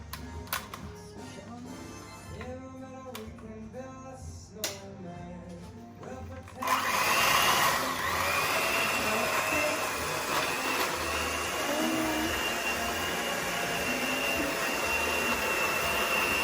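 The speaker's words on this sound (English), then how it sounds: "Let's get the whisk." An electric whisk whirs steadily and loudly through Christmas cake batter in a home kitchen, a continuous motor drone that starts abruptly after some quieter clattering.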